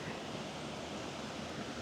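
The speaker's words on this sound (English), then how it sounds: "I can sit and listen to the wee waterfall." Small waterfall on a shallow, mossy stretch of river in a country park, a steady broadband rush of falling water, continuous and fairly soft, with no voices.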